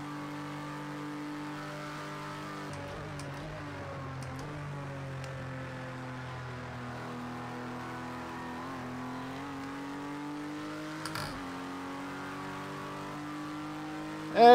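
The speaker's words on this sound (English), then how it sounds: "I like the sound of this car." Turbocharged four-cylinder race car engine in the racing game Project Cars 2 at Daytona, a steady, humming drone at fairly constant revs that dips slightly and rises again, heard alone for a long stretch.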